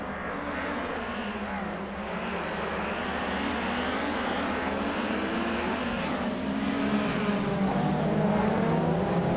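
Race car engines roar continuously around the Marina Bay circuit in a racing game, a dense, loud, sustained drone of several cars that builds slightly toward the end, with no talking.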